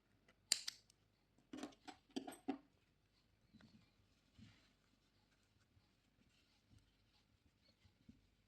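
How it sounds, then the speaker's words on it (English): Scissors cutting crochet yarn: a few quiet, close snips and clicks early on, then faint handling noise in a hushed room. "Cut the extra yarn."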